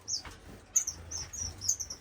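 Small pet birds chirp in an indoor bird room, a series of short, bright tweets repeating every fraction of a second, fairly close and alone over a quiet low room hum.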